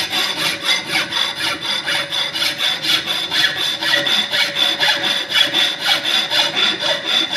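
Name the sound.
hand filing of metal workpiece in fitting shop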